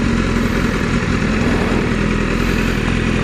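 A motorcycle engine runs steadily with the clutch fully out and no throttle, a close, continuous low rumble with mechanical clatter that holds an even pitch throughout.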